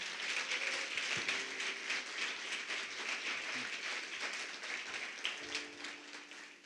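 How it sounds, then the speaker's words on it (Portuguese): A church congregation applauds during a sermon, with steady broadband clapping across the whole stretch and a few faint tonal sounds underneath. "Você pode aplaudir a Jesus por isso?"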